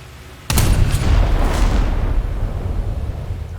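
A torpedo strikes an enemy ship in War Thunder, heard as a sudden heavy boom that erupts and rolls on as a long, loud rumbling explosion.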